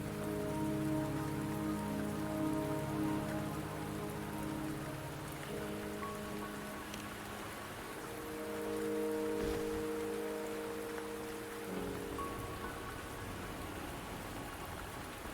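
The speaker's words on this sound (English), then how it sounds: "Don't worry, the rain won't last much longer." Steady rain pours down in the video game Wuthering Waves, a dense continuous hiss heard alone with a faint tonal music bed under it.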